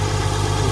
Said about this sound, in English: as you can see, the GTR is running